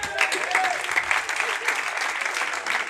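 A church congregation claps steadily and loudly throughout, a dense continuous applause filling the room with a few voices mixed in.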